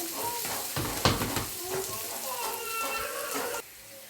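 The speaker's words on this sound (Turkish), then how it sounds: "Üzerine şimdi biberlerimi atıp onu da soteleyeceğim." Peppers sautéing in a pan for a Turkish farm-style kebab: steady close sizzling and frying with stirring scrapes and a sharp clink, ending abruptly.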